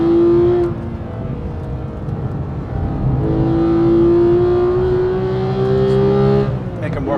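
2017 Porsche 911 GT3 manual accelerating on a track, the engine pulling through rising revs in a strong climbing tone, easing off and building again, with someone talking over it.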